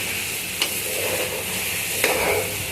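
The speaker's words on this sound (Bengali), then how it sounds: "আমি আর একটু নাড়িয়ে চাড়া করে নিয়ে নিব।" Semai vermicelli frying in a pan, a steady bright sizzle and hiss throughout with two brief scraping strokes of stirring, close and even.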